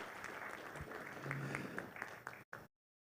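An audience applauds the chief guest at the MTN Uganda listing ceremony on the Uganda Securities Exchange, moderate clapping with a few sharper claps before it cuts off abruptly.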